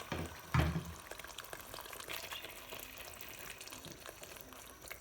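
Half a kilo of fish frying in a pan of curry masala gives a quiet, steady sizzle with a soft splash as it goes in, then light bubbling and stirring.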